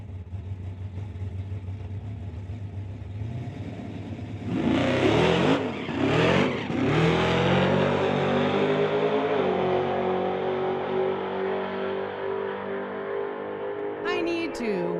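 A nitrous-equipped Chevy Nova or Chevelle drag car at a street-legal drag racing event launches hard with a loud roaring surge, then shifts through rising engine pulls as it races off down the strip, with an announcer talking over it.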